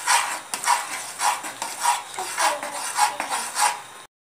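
Custard stirred in a pot, a spoon scraping around the bottom in regular rhythmic strokes, each one a short rasping swish, close and alone.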